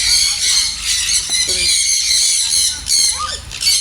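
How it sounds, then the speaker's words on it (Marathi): A parrot squawks near and loud in a bird enclosure, shrill repeated cries over constant high chirping from many other birds, with faint voices in the background. "पोपट आहे हा"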